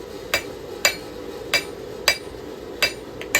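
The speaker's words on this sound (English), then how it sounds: "I want every hammer stroke to meet the next hammer stroke" Hand forging a knife: a hammer strikes the steel blade in an even, unhurried rhythm, six sharp ringing blows about half a second apart, close and clear over a low shop hum.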